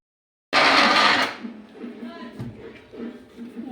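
A kitchen mixer grinder (mixie) whirs loudly in one short burst while grinding wet chillies, then cuts off, followed by quieter kitchen sounds.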